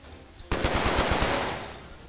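Automatic weapon fire in the online shooter Stalker Online: a rapid, loud burst of roughly a dozen evenly spaced shots lasting about a second and a half, trailing off into echoing reverb, with no talking.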